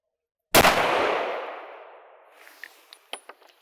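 A single 9mm Luger gunshot fired at a house's exterior wall, a loud close sharp blast with a long reverberant decay that fades over about two seconds, followed by a few small clinks and rattles.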